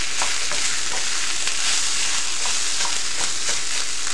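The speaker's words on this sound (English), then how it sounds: "Start stirring it and mixing the meat in with the tomato paste." Ground meat mixed with tomato paste, stirred in a frying pan for a hamburger cottage pie, giving a loud continuous sizzle with rhythmic scraping strokes of the spoon close up, no talking.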